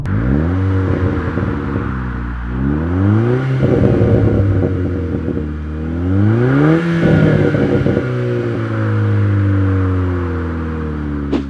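Hyundai i30 Fastback N with a Cobra non-resonated exhaust revs repeatedly up and down, loud and close, its engine note climbing and falling in several sweeps with no talk.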